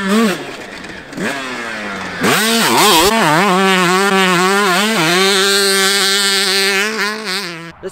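A Screamin' Eagle 500 motorcycle engine revs loud and close, rising and falling through several throttle blips before holding a strong, steady roar while riding.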